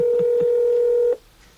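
Telephone touch-tone dialing: a steady dual tone with two quick key beeps layered near the start, cutting off abruptly after about a second into near silence, no voices.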